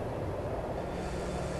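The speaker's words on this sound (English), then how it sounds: "We got a train coming!" A train in the video game Just Cause 4 approaches with a broad, steady low rumble that swells loudly, dense and continuous with no clear breaks.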